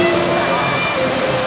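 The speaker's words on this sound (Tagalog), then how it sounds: "Masuk na yung tubig sa tindahan guys." Heavy rain floodwater pours into a shop in a steady, loud rushing wash with sloshing, continuous throughout, with faint voices in the background.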